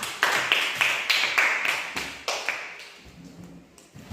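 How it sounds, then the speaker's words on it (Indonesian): Children in a classroom clap together in a quick burst of about a dozen sharp claps that trail off, close and fairly loud. "Tepuk tangan dulu untuk Haikal."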